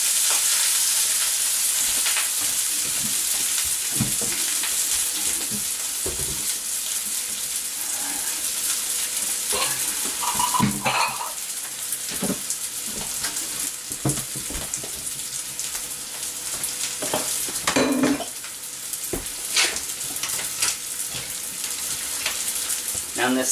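Plain white rice fries in a pan, scooped in batches for a Thanksgiving leftovers turkey dish, giving a steady loud sizzle throughout with scattered scraping and stirring clicks up close.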